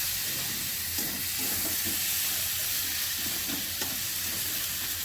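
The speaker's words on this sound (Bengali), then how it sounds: "আলু দিচ্ছি, আলু দিয়ে একসঙ্গে কষিয়ে নিচ্ছি।" Potatoes fry in a pan for aloo phulkopi curry and are stirred, with an even, dense sizzle and soft scraping pulses from the stirring throughout. No one talks.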